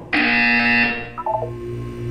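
Buzzer from the video game Portal 2: one loud, harsh electronic buzz holding for about a second, then a short trail of quieter descending tones.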